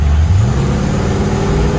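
A 1948 Ford Delivery Wagon: a loud, steady engine drone with a low rumble rising slightly in pitch, heard from close by as it accelerates.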